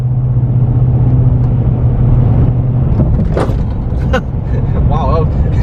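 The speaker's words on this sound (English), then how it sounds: "we're hitting these train tracks. About 60." A GMC Sierra Denali pickup fitted with Fox racing shocks and long travel control arms rumbles along at about 60, its steady road and engine drone broken by a couple of hard jolts and clunks as it crosses train tracks; a voice is faintly audible.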